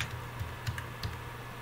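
A few scattered keystrokes on a computer keyboard, soft, close clicks spaced unevenly over a low steady hum, with no voices.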